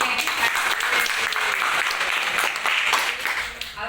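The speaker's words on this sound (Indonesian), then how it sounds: "Tepuk tangan dulu untuk kita" Audience applause in a school teachers' gathering, loud, close and sustained, with brisk overlapping claps filling the whole stretch and a faint voice or two underneath.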